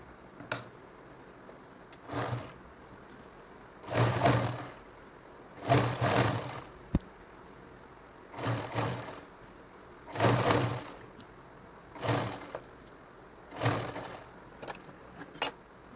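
A sewing machine stitching a nightie, running in repeated short bursts of rapid mechanical chatter separated by quiet pauses, close and fairly loud.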